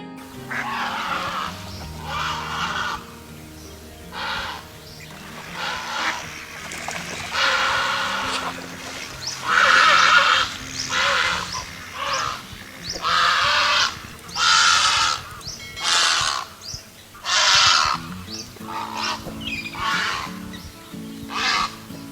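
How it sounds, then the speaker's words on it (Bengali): A purple heron gives a series of loud, harsh, croaking calls in irregular bursts, each a raspy squawk with short pauses between. "এদের ডাক একটু শুনে নেওয়া যাক"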